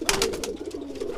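Domestic racing pigeons cooing in courtship display, a close, steady run of throaty low coos with soft rhythmic pulses lasting about a second, no voices.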